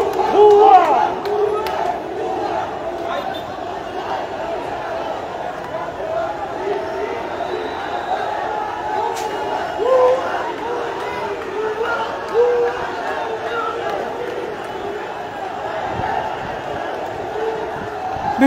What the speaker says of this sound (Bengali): বিভিন্ন স্লোগান তারা দিচ্ছেন।